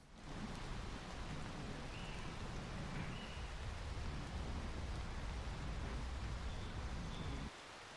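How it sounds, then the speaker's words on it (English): Heavy rain pouring in a forest, a dense, steady hiss of falling water with a low rumble underneath, holding constant before easing slightly at the very end. "The rains kept pouring as I made my way towards my camping spot."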